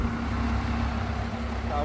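A low, steady old diesel truck engine rumble idles close by, continuous and droning for the whole short stretch.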